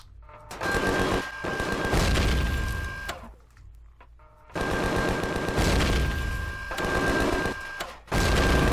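Rapid automatic gunfire while shooting enemies in the video game Empyrion, two long loud bursts of dense rattling shots split by a short quieter gap, with another burst starting at the end.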